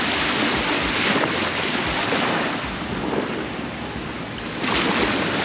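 Surf rolls in steadily on a remote beach at Warroora Station near Coral Bay, Ningaloo, a broad continuous wash of breaking waves with gentle swells in loudness, mixed with some wind noise.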